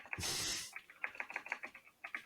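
Rapid typing on a computer keyboard: quick, irregular clusters of light plastic key clicks, fairly close and quiet, following a brief burst of broadband noise at the start.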